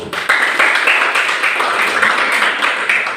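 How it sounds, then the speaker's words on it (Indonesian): Students in a classroom applaud together, a dense, steady wash of clapping at close range that stays even and fairly loud for a few seconds. "tepuk tangan semua"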